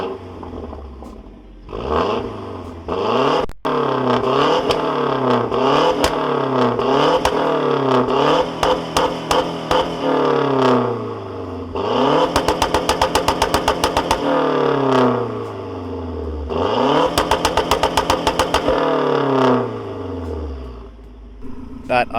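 A Mazdaspeed 3 with a resonator-delete exhaust, downpipe and aftermarket catback idles, then is revved repeatedly. Sharp blips rise and fall back to idle, with two longer bursts of rapid rev pulses. The engine sounds loud and close.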